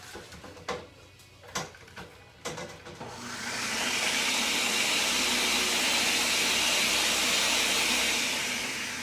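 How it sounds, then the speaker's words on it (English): A Ninja blender kicks in after a few knocks and clatters, then runs as a loud, steady roaring whir that holds for about five seconds before easing slightly. "so that's the Ninja. It makes a lot of noise."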